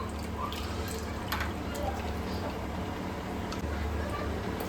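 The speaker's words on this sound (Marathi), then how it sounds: "कलेजी आता चांगली धुवून घ्यायची आहे" Chicken liver being rinsed in water in a home kitchen, a soft steady splashing and dripping with small liquid clicks, close and fairly quiet throughout.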